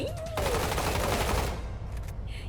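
Rapid automatic gunfire from the Roblox game Combat Arena, a dense sustained burst that cuts off after about a second and a half, followed by a few scattered sharper shots and a faint whine.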